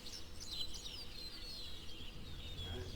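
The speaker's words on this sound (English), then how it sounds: "You hear the birds chirping in the morning" Birds chirp and tweet in the morning, faint scattered calls over a steady low background hum, continuous and moderately distant.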